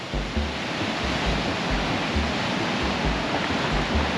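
Ocean surf at Sliding Rock in American Samoa rolls in as a steady, loud wash of broadband noise with a low rumble, continuous and unbroken with no voices.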